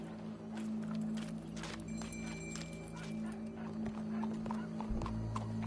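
Horse hooves clip-clop in a steady walking rhythm in Red Dead Redemption 2, joined by a brief whinny and faint game ambience.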